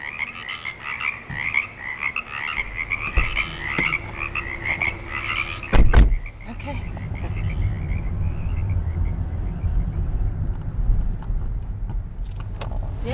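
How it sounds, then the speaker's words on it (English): A loud chorus of frogs croaks from a small pond in front of a hotel in Yosemite National Park in April, dense rhythmic calls running continuously, with a brief sharp knock midway and a low rumble of passing traffic underneath. "a loud serenade of frogs croaking away in a small pond in front of the hotel"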